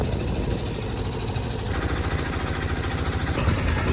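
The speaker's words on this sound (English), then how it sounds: "We're taking a loud boat back." A loud motor boat engine drones steadily while crossing a river in Bangladesh, a close, continuous low throbbing hum with a slight rhythmic knock throughout.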